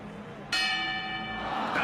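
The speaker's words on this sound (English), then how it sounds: "And there's the bell!" A boxing ring bell clangs once in an anime championship match, a sudden bright metallic strike that rings on and decays under crowd noise.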